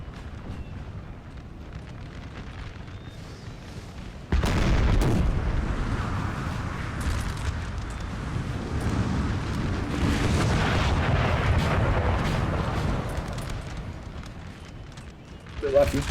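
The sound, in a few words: artillery fire in video game Napoleon Total War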